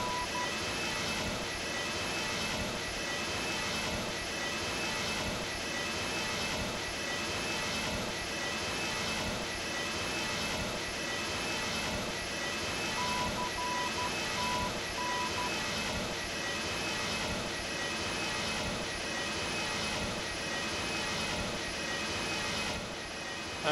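A simulated airliner engine hums steadily in Microsoft Flight Simulator X on an IFR flight from Bari to Catania, a constant even drone with faint tonal whines and no variation in level.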